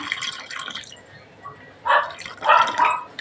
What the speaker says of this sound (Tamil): இது மாதிரி தண்ணி ஊற்றி ரெண்டு மூணு தண்ணி கழுவி எடுத்துகிட்டு வரலாம்